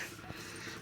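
A short, soft whimper from a dog, fairly faint against a low background hum.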